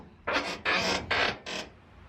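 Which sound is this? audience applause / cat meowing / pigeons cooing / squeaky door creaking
squeaky door creaking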